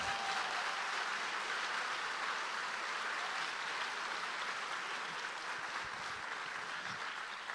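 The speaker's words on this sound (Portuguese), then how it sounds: "vamos aplaudir o Senhor" A church congregation applauds steadily in a broad, continuous wash of clapping that holds at an even level throughout, with no pauses or speech breaking through.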